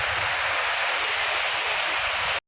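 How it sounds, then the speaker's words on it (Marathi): Dense, roaring downpour fills the air in a loud unbroken wash, then cuts off abruptly at the end. "आता बऱ्याच वेळ जर चालला पाऊस तर भरपूर पाऊस होणार आहे"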